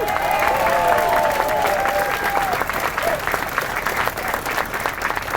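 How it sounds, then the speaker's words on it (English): A crowd at an overpass ribbon-cutting ceremony claps loudly and steadily, with a few scattered voices and a brief whistle-like tone early on under the dense applause. "Can we get one more round of applause for our streets team and partnering agencies?"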